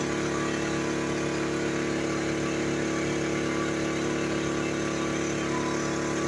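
Backup generator starting up during hurricane preparations, a steady broadband engine drone that holds at an even, loud level throughout with no voices.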